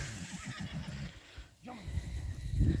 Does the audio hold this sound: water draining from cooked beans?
no